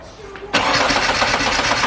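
A Ford Escort van fitted with a turbocharged ZVH engine cranks briefly, then catches and settles into a loud, steady idle close by, with faint talk beforehand.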